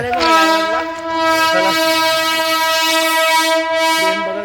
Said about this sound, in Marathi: बघा ट्रेन कशी क्रॉस होते ते